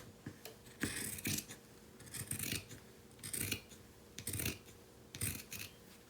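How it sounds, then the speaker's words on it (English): Sharp fabric scissors trim the seam allowance of a sewn shopping tote, cutting away bulk in about six quick crisp snips with short pauses between, close and alone. "I'm just cutting all that bulk away."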